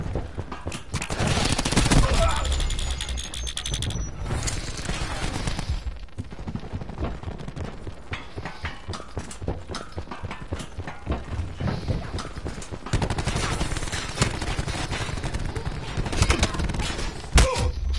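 Rapid gunfire in a Call of Duty Hardpoint match, with dense bursts of automatic shots and scattered single cracks crowding the whole stretch, loud and close with mechanical clatter between volleys and a voice occasionally talking over it.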